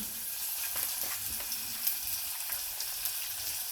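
Chopped onion with a pinch of salt sizzles in a pan for a bottle gourd and gongura stew, a steady close frying hiss with faint stirring scrapes and no talking.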